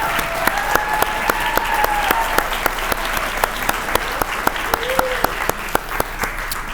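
Sustained applause from a crowd at an awards banquet, steady clapping honoring volunteers, with sharp individual claps standing out and a voice speaking briefly over it.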